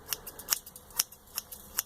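Scissors snip through hair in a quick series of about eight crisp, close cuts at an uneven rhythm, with no talking.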